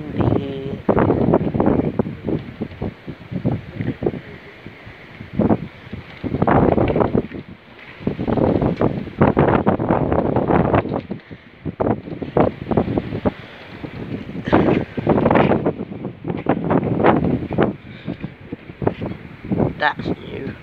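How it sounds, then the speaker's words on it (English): Strong wind buffets the microphone at an outdoor railway level crossing in Minster, Kent, roaring in steady gusts with brief lulls and the occasional voice. "Bit windy."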